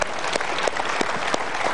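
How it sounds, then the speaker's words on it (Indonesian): Dense audience applause at a live Indonesian motivational talk show, steady and full throughout, with a few sharper claps standing out and no speech over it. "Ya, kita berikan tepuk tangan, boleh?"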